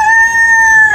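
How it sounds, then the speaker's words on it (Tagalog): A rooster on a Sharjah farm house gives one loud, close crow, a sustained shrill tone lasting about a second. "Mga manok."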